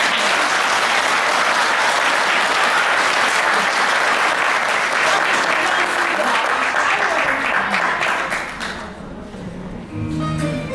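Sustained applause from an audience at a children's theatre school's public performance, dense and loud throughout before thinning near the end, with a few voices and stray claps emerging as it dies down.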